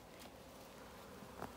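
A faint, steady insect buzz of a honey bee swarm, humming continuously in the distance with no voices.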